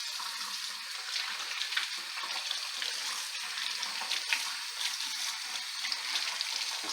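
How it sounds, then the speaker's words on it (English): Tap water runs steadily into a kitchen sink while a carrot is washed, a constant close hiss and splash with no pauses. "You can skip the step of washing and peel your carrot."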